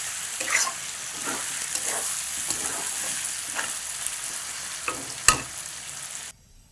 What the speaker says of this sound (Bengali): ভাজাটা বেশ ভালোই হয়েছে।